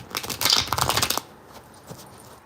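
A deck of playing cards is riffled and shuffled in a quick burst of crisp flutters and snaps up close, then falls away into near quiet.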